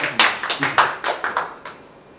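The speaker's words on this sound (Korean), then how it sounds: "박수 한번 주세요." Roughly ten distinct claps in an uneven rhythm, fairly close and sharp, thinning out toward the end as an audience at a lecture on Admiral Yi Sun-sin welcomes a narrator.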